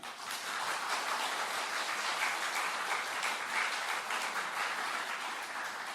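A church congregation applauds during a special Sunday afternoon thanksgiving service for a remodeled sanctuary, a steady, even wash of many hands clapping at a moderate distance throughout, with no voices standing out.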